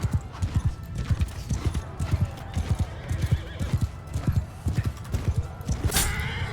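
Steady, rhythmic hoofbeats of a galloping horse in Mount and Blade II: Bannerlord, loud and continuous, with a whinny near the end and some faint background voices.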